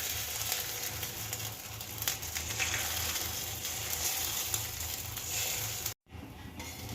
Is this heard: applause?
no